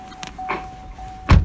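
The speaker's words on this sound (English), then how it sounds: "Front electric windows," Motor whir of the front electric windows in a used car, a couple of brief mechanical runs with a steady tone, ending in a louder thump near the end, close and fairly quiet.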